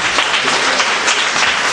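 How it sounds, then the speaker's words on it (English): Church congregation clapping hands during a worship and deliverance service, a continuous, loud, dense wash of many hands clapping together with no pause. "Clap your hands for Jesus."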